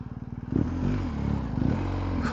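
A BMW R1250GS boxer-twin motorcycle fitted with an aftermarket MIVV exhaust revs in short pulsing bursts, a deep throbbing bark rising and falling close to the microphone.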